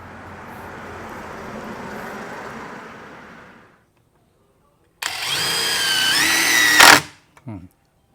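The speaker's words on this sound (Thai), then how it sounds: "โดยใช้น็อตตัวยาวนะเป็นน็อตหัวบล็อ กแบบนี้นะครับแล้วก็เปลี่ยนเป็นหัวบล็อกนะโดยจะใช้เป็นโหมด AI นะค รับ" An OSUKA OCID821 cordless impact driver in AI mode drives a long bolt with a hex socket, a loud steady whirring burst of about two seconds that ends abruptly, followed by a couple of short blips; a broad noisy stretch precedes it.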